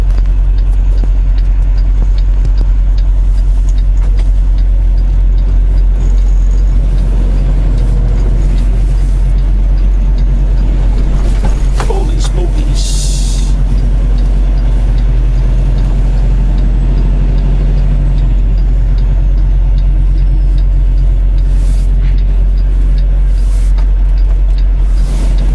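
Steady heavy engine drone and road rumble inside the cab of a loaded semi truck hauling toward Wisconsin, continuous and fairly loud with a brief higher hiss midway and no talking.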